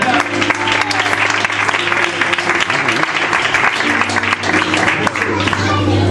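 A church congregation applauds, sustained loud clapping from many hands over a low steady hum, with faint voices mixed into the crowd.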